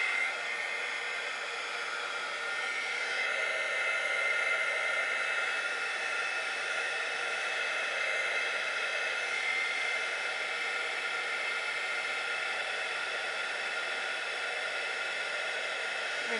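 Heat tool blowing hot air steadily onto a modeling paste artist trading card, a constant close, loud whooshing hiss with no break.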